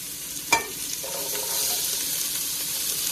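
Finely chopped onion, carrot and celery sautéing in a pan for Bolognese sauce, a steady soft sizzle after one sharp clatter near the start, with no talking.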